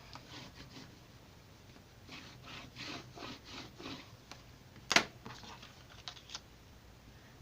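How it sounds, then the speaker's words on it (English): A bone folder rubs and burnishes paper on a scrapbook layout, faint close scraping strokes in a soft repeated rhythm, with one sharp brief tap partway through. "I'm going to use my bone folder once again"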